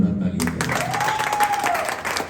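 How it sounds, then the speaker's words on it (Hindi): At a Bhojpuri film event, an audience bursts into loud applause for a songwriter right after a voice finishes speaking. The clapping runs thick and continuous to the end. "तो एक भाई के नाम पे जोरदार ताली।"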